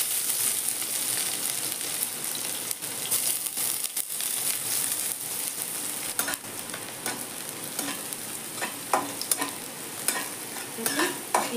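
Onion and garlic fry in mustard oil in a wok, a close, constant sizzle with repeated scraping and stirring strokes, and no talking.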